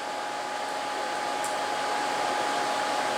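ClearPath servo motor running at about 900 RPM, a steady airy whir with a faint hum underneath, constant and fairly close, no voices.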